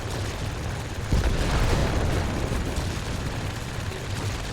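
1,000-pound bomb explosions in the combat flight game IL-2, a deep rumbling blast that swells sharply around the first second and then rolls on as a heavy, sustained roar.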